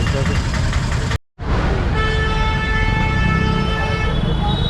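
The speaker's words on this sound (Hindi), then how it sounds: "फुल ट्रैफिक जाम रहा" A car horn honks in a jammed Ludhiana street, one sustained toot cutting over the idling engines and road noise after a brief dropout.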